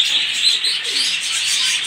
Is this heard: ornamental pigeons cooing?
yes